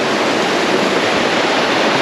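A river rushing past a rock along the Mount Crichton Loop Track near Queenstown, New Zealand, makes a loud, steady broadband roar of flowing water, close and continuous with no voices.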